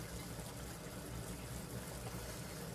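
A tablespoon measure rinsed under running kitchen tap water, a faint, even splashing rush that continues without a break.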